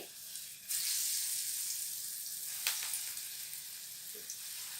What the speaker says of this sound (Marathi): मी टाकून बघते आता भजी तेल तापलाय का